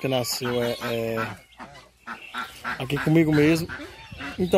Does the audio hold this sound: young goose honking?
yes